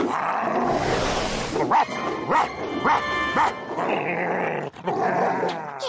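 A cartoon dog in an animated fairy-family series barks and yips several times in short, loud bursts over a busy soundtrack, with some growly vocal noise between the barks.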